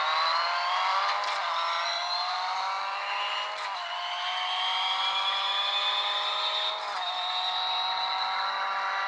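A Hyundai i20 WRC rally car engine revs and accelerates in a strained, high-pitched whine that climbs steadily, with brief dips at gear shifts, loud and close with no talk.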